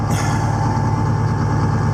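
A tractor that always needs starting fluid runs after a cold start, its engine a loud, steady close-up rumble with a constant low throb and no pauses.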